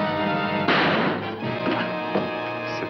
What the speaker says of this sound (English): Smashing anything that stands in his way.